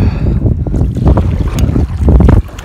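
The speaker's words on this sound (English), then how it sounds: "The wind's coming." Strong gusty wind buffets the microphone while kayaking on a lake, a loud low rumbling roar with rising and falling surges throughout.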